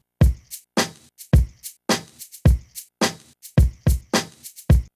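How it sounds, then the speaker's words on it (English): A drum groove of punchy kick and snare hits trading with short shaker strokes, steady and upbeat, no voices. "and the shaker sounds like this. Or let's play it with the rest of the drums."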